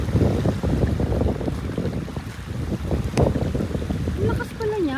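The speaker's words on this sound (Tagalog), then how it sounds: "Sobrang alon." Strong sea waves at a beach in Surigao, a continuous rough wash of surf and wind noise running throughout, with people talking over it.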